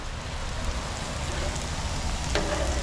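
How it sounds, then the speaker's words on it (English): Eggs scramble and fry with rice in a pan outdoors while rain starts, giving a constant close hiss of sizzling, steady throughout with a faint short scrape near the end. "And then I just go ahead and scramble them."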